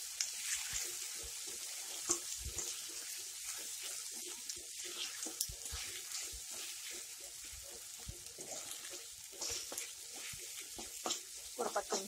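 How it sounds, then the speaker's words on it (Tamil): Ginger, garlic and broad beans sautéing in a pan, a faint, hissy sizzle with scattered light clicks and stirring scrapes, quiet and fairly close, no speech. "ஒரு 10 நிமிஷம் நல்லா வதக்கி விடலாம்"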